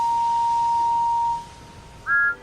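A toy engine whistle gives one long, steady toot that cuts off, then after a brief pause a shorter, higher toot sounds, clear and close with no talking.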